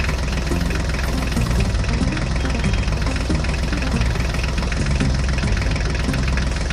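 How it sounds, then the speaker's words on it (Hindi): A John Deere tractor engine runs at a steady idle-like rumble, continuous and fairly loud, with no pauses or speech over it. "चलो ड्राइवर अब ट्रैक्टर गाड़ी को आगे"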